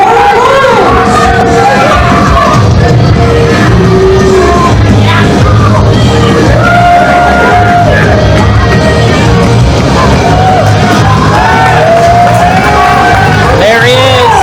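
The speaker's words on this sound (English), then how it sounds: "Fans here chanting, "Where's your belt?"" A crowd of pro wrestling fans at a Supreme Pro Wrestling show chants and yells loudly and continuously, a dense roar of voices with rhythmic shouted chant phrases throughout.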